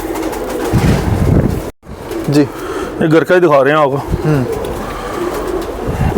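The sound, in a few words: Sialkoti pigeons cooing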